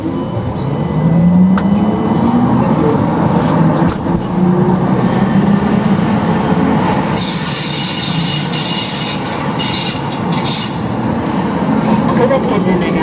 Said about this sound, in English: These trams are really old and very interesting.